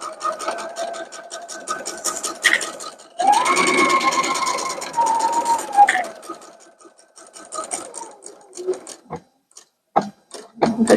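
A sewing machine stitches a cape seam in close, rapid bursts with a brief steadier run in the middle, pausing between runs, then a scatter of light clicks and handling taps.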